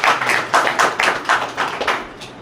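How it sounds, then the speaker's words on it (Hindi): A crowd at a business plan presentation clapping loudly in a short rhythmic burst, close and steady with evenly spaced beats. "इसके लिए एक बार जोरदार तालियां होना चाहिए।"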